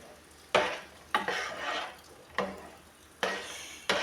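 Sambar masala being stirred in a pan, five sharp scraping strokes of a spoon against the metal, each followed by a soft sizzling hiss, close and clear with no talking.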